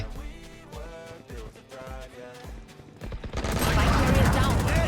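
Rapid bursts of video game gunfire crackle throughout, swelling into a dense, loud barrage near the end.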